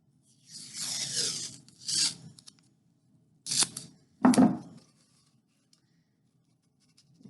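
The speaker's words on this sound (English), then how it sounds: "We're going to put some tape on it real quick. I'm using this blue painter's tape," Blue painter's tape being pulled off the roll, torn and pressed down, a few close, raspy ripping and rubbing bursts with quiet gaps between.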